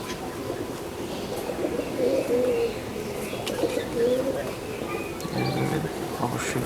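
Pigeons coo in short, soft bursts close by while one is held and fed medicine, with a person talking over the birds.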